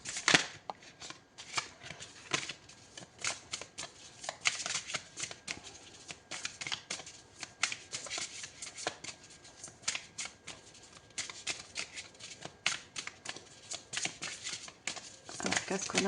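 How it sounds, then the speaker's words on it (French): Tarot cards being shuffled by hand, a dense, continuous run of crisp riffling and slapping card sounds close up, with no speech over it. "On va prendre une deuxième carte."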